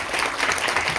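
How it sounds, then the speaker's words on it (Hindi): Steady, dense clapping from an audience at a sales seminar fills the whole second, loud and continuous, with a faint voice underneath. "ताली बजाओ साहब के लिए।"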